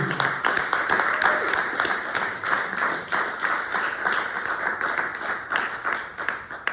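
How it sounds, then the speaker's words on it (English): An audience at a Walt Whitman poetry performance applauds two featured poets, Francine Witte and George, with dense, steady clapping that fills the whole stretch at an even, moderately loud level. "Give another round of applause for both of our features,"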